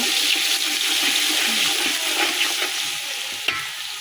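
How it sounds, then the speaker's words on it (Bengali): Ginger and garlic sizzling as they are stirred in a hot cooking pan, a continuous bright frying hiss with faint scraping from the spoon, close and steady. "আমরা আদা রসুনটা একটু নেড়ে চেড়ে নেব"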